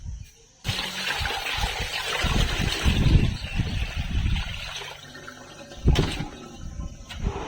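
Water runs steadily into a bucket being filled for an air cooler, a continuous close rushing splash with a brief louder burst near the end.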